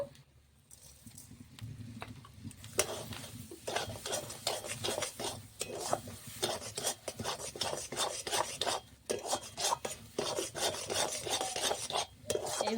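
Pea filling for kochuri being stirred and scraped around a pan with a spatula: repeated rasping, scraping strokes that go on steadily and fairly close, with no talking.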